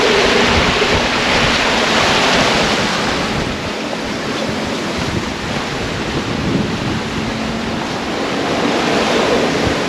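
Strong 22-knot wind and breaking waves rush past a sailing boat moving at about nine knots, a loud continuous roar of wind on the microphone and surging water with no talk.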